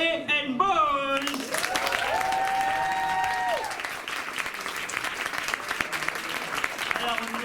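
An audience at an evening improv and eloquence show applauds its musicians with a steady, fairly close wash of clapping, beginning over the tail of a speaking voice and a brief sung or tonal note, then continuing alone.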